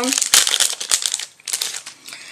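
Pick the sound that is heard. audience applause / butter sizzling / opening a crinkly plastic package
opening a crinkly plastic package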